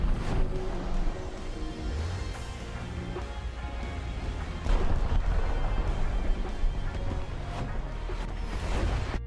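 Missiles launching in the War Thunder video game, piloting a UCAV Wyvern drone, form a dense, continuous roar of launches, whooshes and blasts that stays loud throughout with no pauses.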